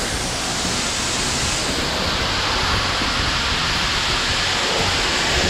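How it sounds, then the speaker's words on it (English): Beans pour steadily into a grain drying bin, a loud, continuous rushing hiss that holds unbroken from start to finish with no talking. "We've got beans going in."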